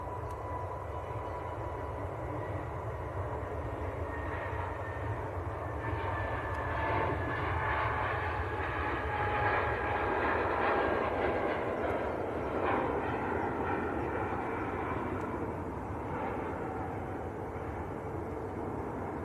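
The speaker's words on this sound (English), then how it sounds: "British Airways on the roll to Heathrow," A British Airways A320neo rolls for takeoff, a steady distant roar of jet engines building slightly in the middle, broad and continuous with a faint whine over it.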